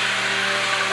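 Steady, continuous motor whine of a blender mixing homemade body cream at constant speed, loud and close, with no talking.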